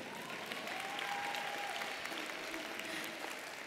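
Steady, even applause from a university commencement audience, a continuous wash of clapping across the whole stretch with no voices on top.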